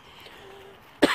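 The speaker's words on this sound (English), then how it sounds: "I've got a bit of a cough today" A single short, sharp cough from a man close to the microphone outdoors in a cemetery beside an abbey, following a moment of quiet ambience.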